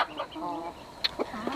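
Part-Silky and Jersey Giant hens cluck softly at close range in a short, quiet burst, with a few sharper calls near the end.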